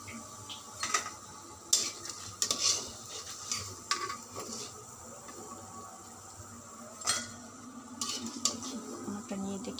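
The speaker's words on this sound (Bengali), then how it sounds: "তারপর আমি ডাল ব্লেন্ডার করে এগুলো ভাজলাম।" Fritters made from blended lentil batter fry in a pan, with a soft sizzle beneath intermittent clinks and scrapes of a utensil against the cookware.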